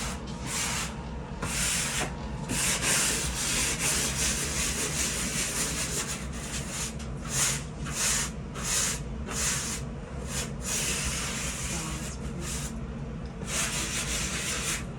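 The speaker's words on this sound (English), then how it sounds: "Get yourself a sanding sponge. Wet it." Wet sanding sponge rubbing over textured sheetrock, a steady, close abrasive scrubbing in repeated strokes with no voices.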